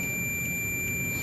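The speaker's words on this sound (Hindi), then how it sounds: "ये देखिए बीप का साउंड आपको सुनाई दे रहा होगा" A steady, continuous high electronic beep from a multimeter on continuity mode as a motorcycle speedometer ground wire is tested, holding one unbroken tone over a background hiss.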